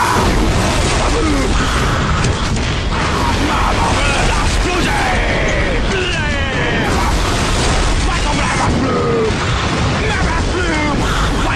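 Heavy, relentless explosions in Halo 3 machinima boom and crackle for over ten seconds, a loud dense barrage with mechanical clatter and shouted voices mixed in.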